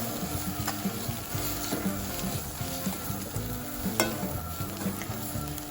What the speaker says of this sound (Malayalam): എന്നിട്ട് അതിൻ്റെ പച്ചപ്പൊന്ന് മാറുന്നത് വരെ നമുക്കൊന്ന് അതിൻ്റെ കൂടത്തിൽ വഴറ്റിയെടുക്കാം